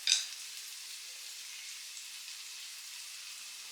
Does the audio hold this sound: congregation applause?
no